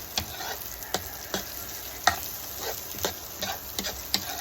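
Chopped onions sautéing in turmeric-tinged oil for kinunot na bangus, a steady sizzle broken by about a dozen sharp scrapes and taps of a utensil stirring the pan at a loose, uneven rhythm.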